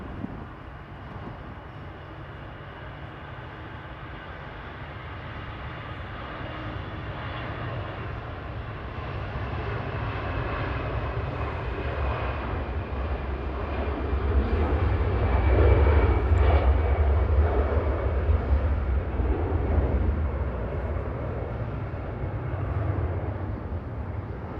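An EasyJet airliner departing Manchester for Zurich rumbles in a low, building engine roar that swells to a peak midway and stays loud, without any voices.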